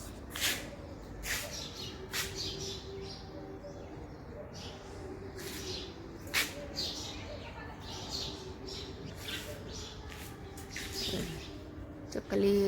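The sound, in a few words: sparrows chirping at their nest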